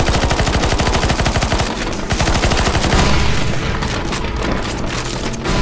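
Sustained, loud automatic gunfire from the game CS:GO Zombies hammers in rapid continuous bursts, layered with heavy booms and dense overlapping shots throughout.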